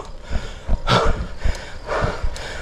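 A cyclist on a long solo mountain ride gasps and pants heavily, with several close, loud breaths in an uneven rhythm and no talking.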